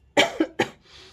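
Three sharp, close coughs in quick succession, the last followed by a brief breathy rasp, with no talking.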